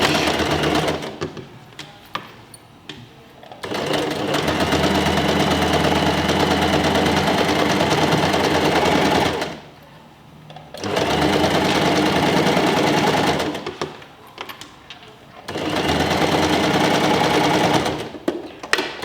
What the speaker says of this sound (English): I've done a couple more reverse stitch or lock stitch to keep it in place